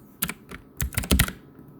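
Keys tapped on a computer keyboard while typing a material name into 3D rendering software, a few quick close clicks in two short bursts.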